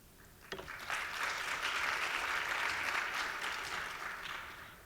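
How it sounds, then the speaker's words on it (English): An audience at a Women of Impact welcome event breaks into applause after a sharp opening clap, a dense, steady wash of clapping that swells quickly and fades slightly near the end. "So we can just get a round of applause again for Mary quickly"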